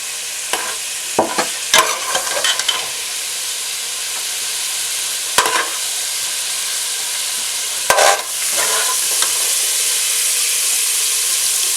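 Carrots are stirred in a pot for Irish lamb stew under a loud, continuous sizzle. Scraping and clattering of the spoon comes in bursts near the start and again around the middle, with no speech.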